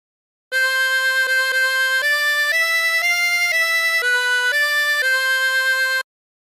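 A 24-hole tremolo harmonica plays a slow melody of sustained, wavering notes stepping up and down, clear and close, with no voices.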